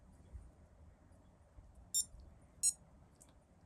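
A 1980s Casio digital watch alarm sounds in two short, bright beep bursts about half a second apart. They are crisp and close, over a quiet background hiss.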